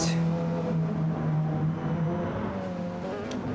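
Race car engine in Gran Turismo Sport holding a steady, loud, close drone, with pitch shifts as the driver short shifts through gears.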